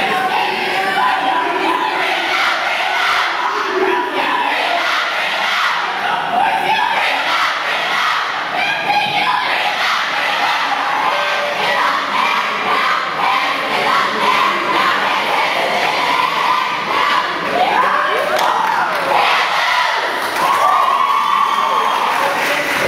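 A swim team's rousing 'bring 'em out' cheer led by the captain: a loud, sustained crowd of young voices chanting, shouting and whooping together, with scattered clapping, continuous for over twenty seconds.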